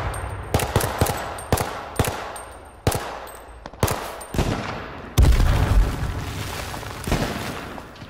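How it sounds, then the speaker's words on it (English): Sharp pistol shots from the video game H1Z1 crack out one at a time at irregular intervals, close and loud, each with a short tail and no talking over them. "Tagged him with a pistol from this distance."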